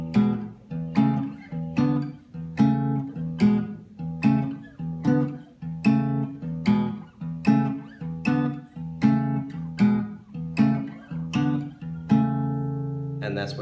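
Guitar strumming a 12-bar pentatonic pattern in E with steady thumb timing, a regular run of evenly spaced strums that ring out clearly and alone, with no talking.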